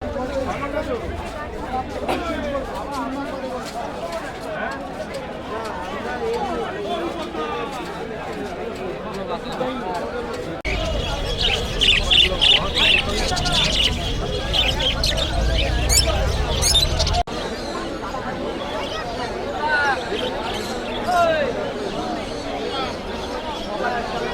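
Birds squawk and chirp amid a busy crowd at the Shyambazar bird market in Kolkata, the calls mixed into constant chatter and murmur, growing denser and louder for a stretch midway.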